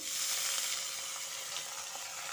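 Boiled vegetables fry in hot mustard oil with cashews and raisins, giving a soft, steady sizzle that continues without a break and with no talking.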